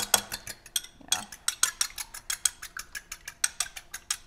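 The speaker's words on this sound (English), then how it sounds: "from the cracking of the egg to the yolk hitting the bowl and then the whisking sound" Eggs are whisked briskly in a bowl for chicken schnitzel breading, giving a steady run of quick, close metallic clicks and taps. A brief pause comes about a second in, then the rhythm resumes.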